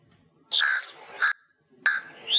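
Crow caws played as a sound in a children's guessing quiz show, three harsh calls with short gaps between them, close and clear with no talk over them.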